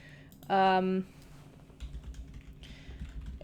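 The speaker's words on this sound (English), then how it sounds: "excuse the typing" A computer keyboard is typed on in quick, soft, irregular clicks, close by and mostly faint, following a short loud tonal burst, with speech around it.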